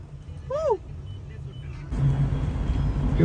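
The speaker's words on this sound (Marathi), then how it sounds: "अशा प्रकारे आमची गाडी सुटलेली आहे" A car engine hums steadily from inside the vehicle, growing louder and rougher partway through as it picks up speed, with a brief voice early on.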